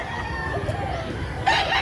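A rooster crows at a chicken expo, a short crow rising near the end over a murmur of crowd noise, fairly close and brief.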